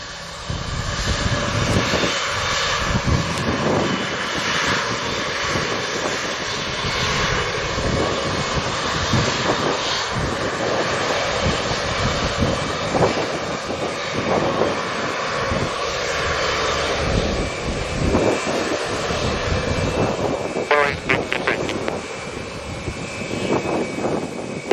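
An airliner's engines roar during takeoff at Montego Bay airport in Jamaica, a sustained loud drone from distance with shifting tonal whine.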